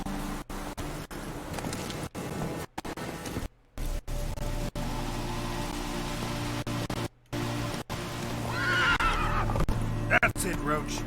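Roach, the horse in The Witcher 3, gives a loud whinnying neigh near the end, over steady game background noise with hoof clops and a voice speaking in the scene.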